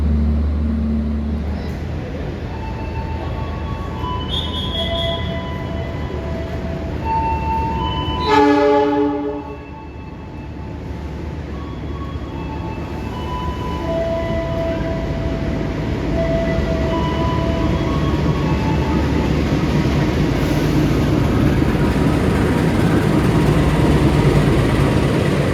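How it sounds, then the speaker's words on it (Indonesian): Ranggajati passenger train pulling into track 3 at a station, a steady loud rumble of wheels and engine throughout, broken by one long, blaring horn blast partway through, with no voices. "Masuk jalur 3 kereta api Ranggajati."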